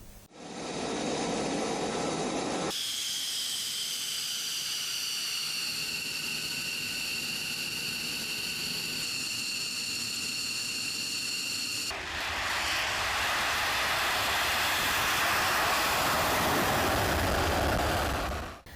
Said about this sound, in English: They have released a video of the planes taking off.